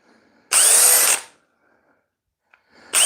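A Milwaukee M12 drill with anti-kickback whirs in a loud, close burst lasting about half a second, then falls silent before spinning up again at the very end.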